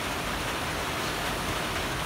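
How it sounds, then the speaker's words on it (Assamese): Rain pours down in a constant, even wash of hiss and patter, moderately loud and unbroken, with no talking. "আজি বতৰটো বহুতে বেয়া, বৰষুণ দি আছে"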